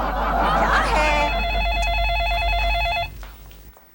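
A telephone rings in a home with a steady electronic trilling pattern for about two seconds, then stops, while people talk loudly over and around it.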